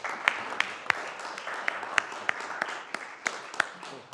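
Scattered applause from a small group at a city council meeting, individual claps sounding sharply at irregular intervals over a soft murmur.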